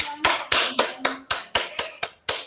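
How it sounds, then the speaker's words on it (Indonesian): Rhythmic unison clapping at an in-house teacher training session, about ten sharp, evenly spaced claps close up, each with a short ring, loud and with no talk over them. "Tepuk tangan untuk beliaunya."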